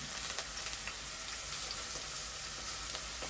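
Onions frying in a pan for rougail hareng, a Réunion salted herring dish, giving a quiet, steady sizzle with small crackles throughout and no talk.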